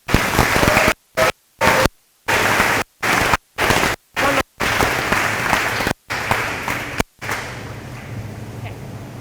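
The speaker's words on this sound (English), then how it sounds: "round of applause, please." Applause at a high school awards ceremony, loud close bursts of clapping broken by abrupt gaps, then fading to quieter room noise near the end.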